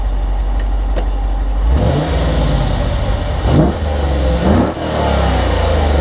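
A 2014 Dodge Challenger revs hard as it passes by, its engine note rising and falling in several loud surges over a steady rumble, with no talk.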